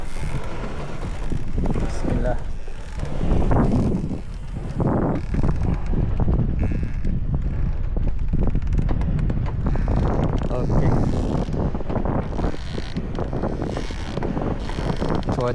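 Strong wind gusts buffet the microphone outdoors on open water beside a fishing raft, a steady loud roar with low rumbling that runs the whole time, while people talk intermittently over it.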